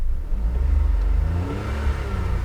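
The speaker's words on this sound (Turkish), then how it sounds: "Marşımıza basalım hafif titreşimli çalışan bir 3 silindir." A Renault Taliant Touch 1.0 turbo three-cylinder with X-tronic transmission starts up close by, catching with a short rise and then settling into a low, slightly shaky idle rumble.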